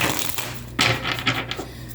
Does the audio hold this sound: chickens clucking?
no